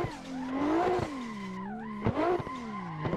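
A car drifts in the Assetto Corsa racing game with a direct-drive wheel setup, its tires squealing in long, wavering tones that rise and fall across the whole stretch, broken by short sharp clicks.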